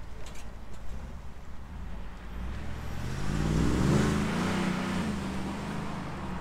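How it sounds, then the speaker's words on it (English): A Shelby American truck's exhaust revs, a low engine note that builds from idle into a swelling rumble and then eases off, heard from moderate distance and fairly subdued. "It's quiet for having an exhaust."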